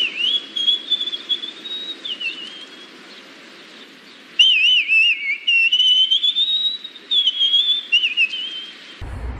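A rock singer whistles bird-song impressions in the middle of a rock song, a voice imitating birds with long, warbling, sliding whistled phrases over a quiet band background, loud and close, with a pause and then a brighter burst.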